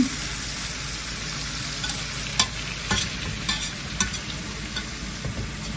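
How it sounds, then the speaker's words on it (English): Onion sizzles steadily while frying in a pot for a Jamaican stew chicken, with intermittent scraping stirs and clinks of a utensil against the pot at moderate volume. "You want to fry into it a little bit, the onion."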